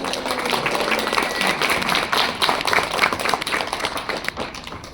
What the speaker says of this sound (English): let's have an applause for Ia and Aaron